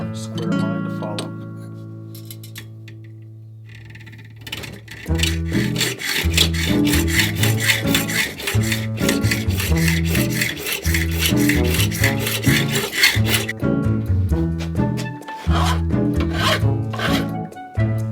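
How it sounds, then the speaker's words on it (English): A hacksaw cutting through metal for a homemade bandsaw blade guide, with close, rhythmic back-and-forth strokes that start after a few seconds of quieter tonal sound and continue steadily. "I'll just go with a hacksaw to cut that off"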